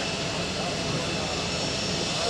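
An Embraer KC-390 military transport taxis out at an air show, a steady, fairly faint engine hum and whine heard from a distance, with people talking over it.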